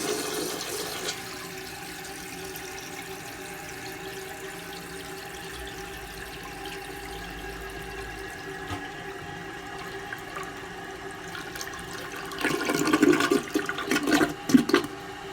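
A 1981 Briggs Conserver toilet fitted with a Mansfield 210 flush valve, water flushing and refilling steadily at close range, with a louder burst of rushing water near the end.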